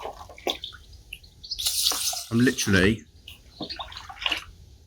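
Water from a bucket is poured over fishing pellets in a tub strainer, producing bursts of splashing and trickling. A person talks intermittently around the pouring.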